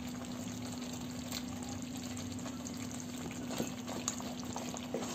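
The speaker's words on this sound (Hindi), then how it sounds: "अब आप ये देख सकते हैं कि हमारा मसाला चिकन के साथ फ्राई हो रहा है अच्छे तरीके से" Masala and chicken pieces frying in a pan for malai chicken gravy, giving a steady, close, even sizzle with a faint bubbling edge and a few soft clicks, no voices.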